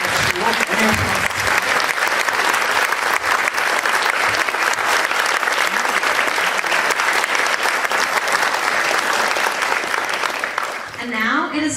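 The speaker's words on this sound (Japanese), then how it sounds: "Let's have another round of applause for our participants." An audience at a final presentation event in Okinawa applauds for the participants, a dense, loud, sustained clapping that fills the whole stretch before tapering at the end.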